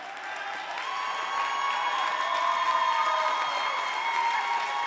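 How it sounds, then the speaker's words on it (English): A crowd and student section at a high school basketball game give a fouled-out player a sustained ovation, with steady applause and cheering that swells slightly and holds for several seconds. "quite the ovation from this crowd and this student section"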